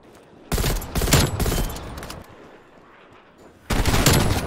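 Call of Duty: Black Ops Cold War gunfire comes in two loud bursts of rapid shots, separated by a quieter gap of distant shooting.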